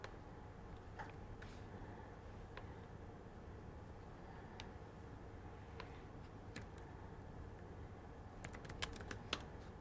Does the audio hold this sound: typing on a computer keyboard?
yes